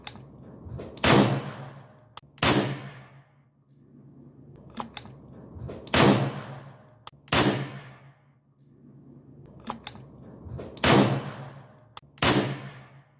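An AEA Max HP .357 compact big-bore airgun firing outdoors: sharp, loud cracks come in pairs about every four seconds, each one ringing out briefly, with the mechanical clacks of cycling the action between shots.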